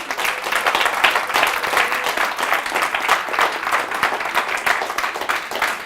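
Sustained audience applause fills a small members' stage comedy night, dense steady clapping from a crowd with no voices standing out, holding at an even level for several seconds.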